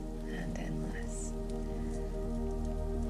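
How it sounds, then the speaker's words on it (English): Soft, steady rain patters around a cabin in the woods, an even wash with faint drip details under a low continuous hum, calm and unbroken. "The sound of the rain stretches into distance, soft"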